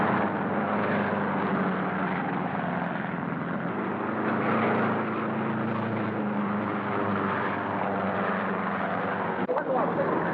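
Republic P-47 Thunderbolt WWII fighter planes drone with a loud, steady engine roar that stays continuous and close throughout, with no breaks.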